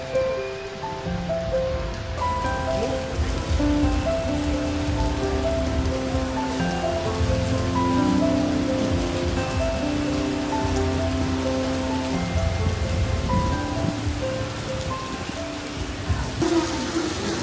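Heavy rain pours steadily and loudly on a surface, a dense continuous patter with no pauses from start to finish.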